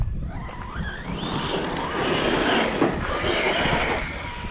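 A Team Corally Frantic 4S RC car running on 6S power skids and drives across rough canyon ground at the G-pit bash spot, with a steady close motor whine and tire scrub that rises and sweeps and has no talk over it.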